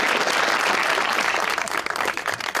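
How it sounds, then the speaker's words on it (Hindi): A studio audience applauding at a comedy talk show, dense loud clapping that fills the short moment and thins slightly toward the end. "तालियां"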